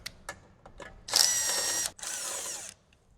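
A power tool removes T40 bolts holding the factory ECU on a 2014-or-later Harley-Davidson: a few light clicks, then two close, loud bursts of whirring, the first slightly longer.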